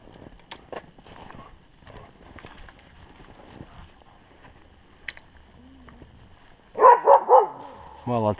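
West Siberian Laika dogs bark in a few sharp, loud bursts near the end of a bear hunt in the forest, following quiet rustling, footsteps and soft clatter.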